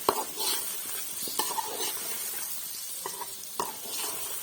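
Red chili and spices fry in oil for a potato and egg curry, a continuous close sizzle with spatula scrapes and stirring knocks spaced through it.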